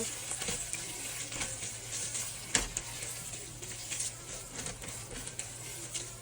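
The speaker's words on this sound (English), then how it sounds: "You want to stir in the tomato paste. So this is going to be fried also." Tomato paste is stirred and fried in a pan while cooking West African thieboudienne fish and rice, giving a steady, soft sizzle with faint scraping of the spoon. One sharper clack lands partway through, and a low hum runs underneath.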